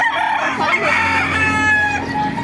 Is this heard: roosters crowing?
yes